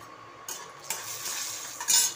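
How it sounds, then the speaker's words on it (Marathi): Cashews roasting in oil in a pan, bursts of bright sizzling and utensil clinks that stop and start, growing louder toward the end. "काजू भाजून घ्यायचं तेलामध्ये"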